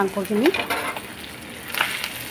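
Chicken frying with cumin and spices in a pan, sizzling steadily while a utensil stirs and scrapes through it, close and fairly loud with no voices.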